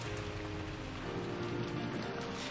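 Rain in the visual novel game Umineko When They Cry, a steady hiss of falling rain with a low, soft background rumble, continuous and unbroken.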